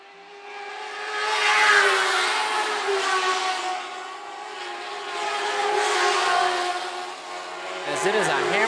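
Lightning sprint race cars roar around the dirt oval at Phillips County Raceway, a steady loud engine drone that swells and fades as the pack passes, with a commentator talking over it.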